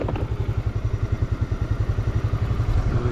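A motorcycle engine idling close by with a steady, lumpy putter, rhythmic low pulses and slight rises in pace during a trip through Vietnam.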